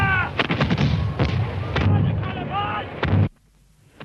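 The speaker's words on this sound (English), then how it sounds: "The rebel cannon have opened fire." Rebel cannon open fire at the Battle of Culloden in 1746, a rapid ragged series of booming artillery shots rolling over one another for about three seconds before the barrage breaks off into near quiet.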